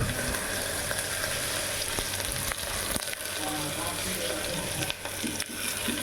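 Chopped red onion hits a hot pan for a semiya biryani, frying with a steady, close, dense sizzle that holds throughout, with faint stirring knocks.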